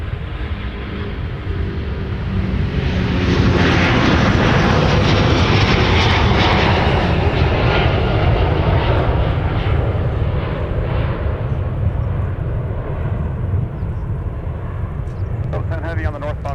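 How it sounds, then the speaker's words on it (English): A Delta Airbus A330neo jet takes off from MSP airport, its loud roaring engines swelling and holding steady for the whole stretch, heard from a distance. "Delta 10 Heavy is now getting off for London with the A330neo"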